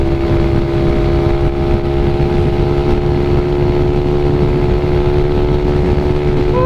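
A Yamaha Mio Sporty scooter fitted with a Michelin drive belt, heard at full throttle on an open road with a loud, steady high-revving engine drone and wind noise, no talk.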